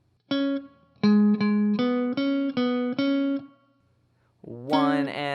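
Clean electric guitar plays a syncopated riff, a run of short, evenly spaced plucked notes in a bouncy rhythm, followed after a brief pause by a strummed chord.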